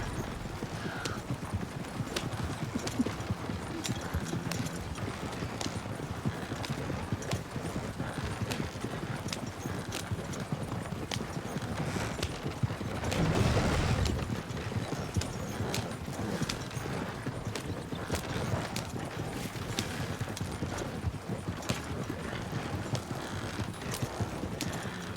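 A horse-drawn stagecoach rolls along in a Western video game roleplay, hooves clip-clopping steadily under constant wheel and harness rumble, with a short burst of louder noise partway through.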